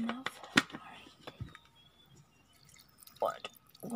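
Water drips during simple vegetable cooking of macaroni with broccoli and cauliflower, with a few sharp, close drops scattered irregularly over a quiet background and faint murmuring in between.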